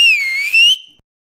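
A person whistles one clear, close, loud high note that dips slightly and rises again, lasting under a second before stopping into silence.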